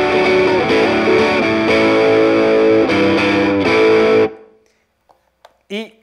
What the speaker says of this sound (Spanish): cuando te pasas a el single coil, también tiene ahí buen agarre con la distorsión